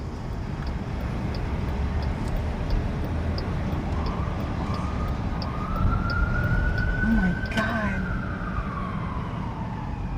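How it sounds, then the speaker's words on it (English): Emergency vehicle sirens wail through Washington DC streets amid steady traffic noise, with a rising and falling siren tone that sweeps closer, while a person briefly exclaims. "You guys, there's like a new siren every single second."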